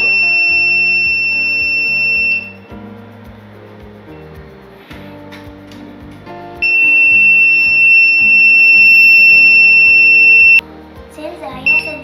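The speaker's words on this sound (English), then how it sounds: "Since IR sensor sends the car and the buzzer will buzz and the LEDs will glow." An electronic buzzer on an automatic parking system project, set off by an IR sensor, sounds two long, steady, high-pitched tones of a few seconds each. Quieter background sound continues between them.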